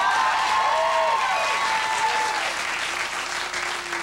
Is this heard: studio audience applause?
yes